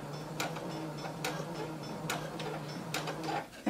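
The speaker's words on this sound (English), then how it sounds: "Go ahead and lower your needle, begin sewing" A sewing machine stitches a skirt seam with a 5/8-inch allowance: evenly spaced ticking knocks about once a second over a low, steady motor hum, close and moderately quiet.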